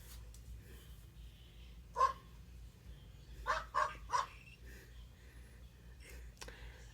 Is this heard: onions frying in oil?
no